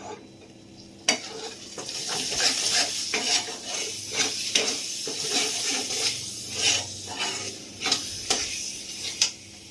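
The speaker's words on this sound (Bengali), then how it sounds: "এবার সব মশলা ভালো করে কষিয়ে নেব।" Turmeric and Kashmiri chilli powder sizzle in a pan as a spoon scrapes and stirs them, giving a steady hiss broken by repeated clanks and scrapes, close and fairly loud with no talk.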